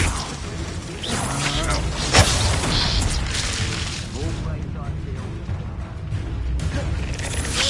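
A Confringo blasting spell goes off in Hogwarts Legacy, a sharp crack and boom near the two-second mark over dense, continuous game combat noise, with other whooshes and impacts around it.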